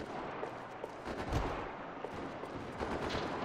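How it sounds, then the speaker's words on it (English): Distant gunfire in the video game Max Payne 3, a muffled scatter of shots and bursts rumbling in the background, faint and continuous with no voices. "There's just a bunch of gunfire here in the back, or somewhere in here."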